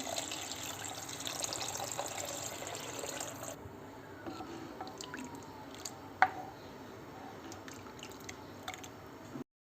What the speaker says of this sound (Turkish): İçerisine suyumuzu ilave edelim.